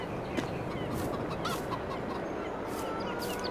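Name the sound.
chickens clucking in Farming Simulator 22 video game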